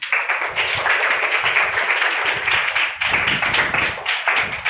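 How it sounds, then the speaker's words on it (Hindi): A group of schoolchildren claps for their classmates after a class act, their uneven, brisk clapping filling the room closely and continuously with small irregular surges. "सभी बच्चे इन बच्चों के लिए तालियां बजाएं।"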